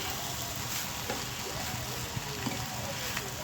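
Rice being fried in a pan with biryani masala for a country-chicken biryani, giving a steady close sizzle with occasional soft stirring clicks and no voices.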